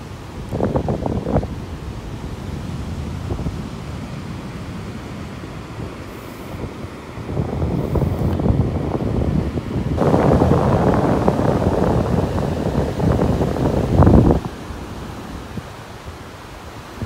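Wind gusts buffet the microphone on a beach in North Naples, Florida, in uneven rushing bursts over a steady background wash, with no talking.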